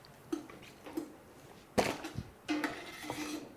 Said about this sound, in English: I'm going to take a really sharp knife and cut the top off and cut the bottom off